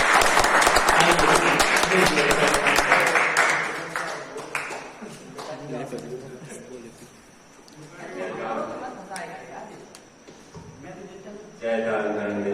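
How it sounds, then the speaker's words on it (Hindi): Audience applause at a gurukul farewell ceremony bursts out loud and dense for several seconds, then thins into scattered claps and fades under voices talking before another burst at the end. "जोरदार तालियां बजाओ।"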